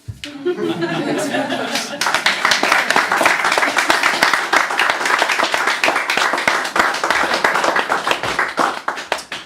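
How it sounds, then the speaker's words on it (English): Audience applause for the poet Helen at a poetry reading, rising after a brief stretch of laughter, then steady, crisp clapping from a modest crowd, close and lively. "More applause, please, for Helen"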